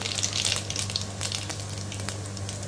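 Cumin seeds sizzle in half a cup of hot oil over a low flame, a close, crackling spatter with bright pops that settles into a steady fizz.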